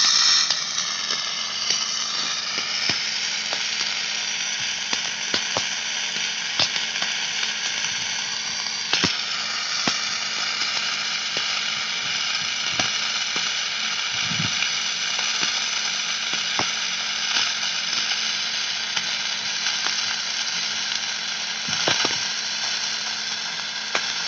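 MIG welding along metal edges: a steady, close, loud crackling sizzle of the arc that runs unbroken throughout, dotted with sharp pops and spatter snaps, with no talking.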